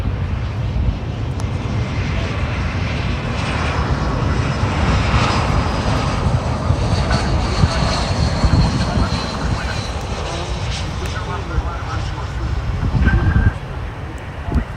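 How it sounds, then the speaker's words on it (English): A JetBlue jet airliner lands at Fort Lauderdale airport, its engines giving a loud, steady roar with wind noise throughout and a brief swell near the end. "Nice butter landing over there for JetBlue."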